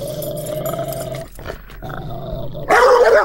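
A dog growls at a closed door, a low sustained rumble broken by a short pause, then ends in a louder, sharper bark-like outburst, close and alone without talk.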